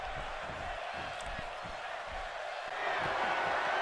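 Crowd noise from the WWE 2K18 wrestling video game, a steady roar of arena cheering that swells louder near the end, with a commentator talking over it.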